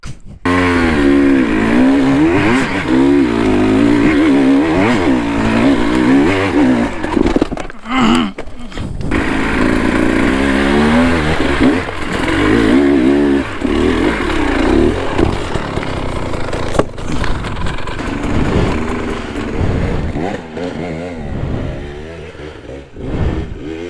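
A motorcycle engine strains up a steep climb in second gear near Dujiangyan, China, loud close revving with rising and falling pitch sweeps, a brief cut around the middle, then more hard revving before easing off.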